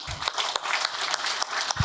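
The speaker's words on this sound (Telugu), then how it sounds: "give a big clap to meditation" A short burst of scattered hand clapping from a small group after a meditation session at a motivational talk, uneven and moderately close, with no voices.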